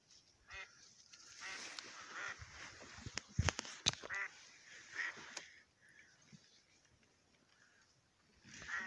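Wild ducks on a lake at the opening of autumn duck-hunting season give repeated quacking, honking calls at middle distance, with a sudden loud sharp burst partway through; no one speaks.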